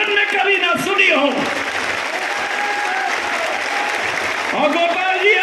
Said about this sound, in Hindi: तालियों की गड़गड़ाहट से मेरी बात की समर्थन करो